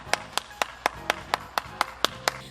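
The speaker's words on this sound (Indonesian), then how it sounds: "tepuk tangan dulu dong buat anak-anak Super Kid" Children at an online Sunday school session clap in a steady, even rhythm, about ten crisp, close claps at regular intervals with no talking.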